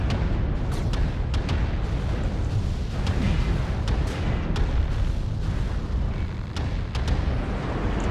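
Rapid autocannon fire from a triple AC/5 mech in MechWarrior Online, dense booming bursts with sharp repeated cracks over a constant heavy rumble, loud and continuous.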